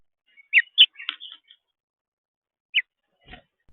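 Birds at a camera-equipped bird feeder give a few brief, quiet chirps spaced apart, with short silent gaps between the calls and no talking.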